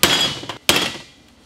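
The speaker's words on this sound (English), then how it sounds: "And I can bang on with a hammer." A hammer strikes the metal wastegate on a rear-wheel-drive Volkswagen GTI: a sharp, loud clang, a small tap, then a second ringing metallic blow that fades out.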